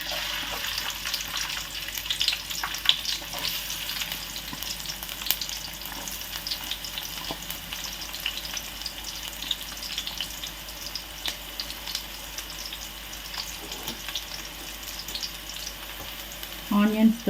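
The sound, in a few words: onions frying in hot oil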